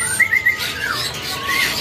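Songbirds at Pramuka bird market, including magpie robins, giving a few short bright whistled calls in quick succession followed by another phrase later, heard amid steady background market noise.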